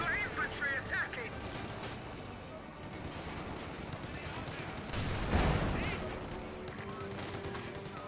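Battlefield gunfire from an infantry attack in Company of Heroes 2: dense, continuous rattling machine-gun and rifle fire with a heavier burst of explosions around the middle, all under steady commentary.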